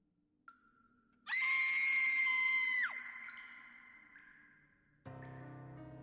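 A mare's shriek used as a scream effect, a loud, sustained high wail with a sharp onset that breaks off abruptly, preceded by a brief tone and followed by a low, heavy hit.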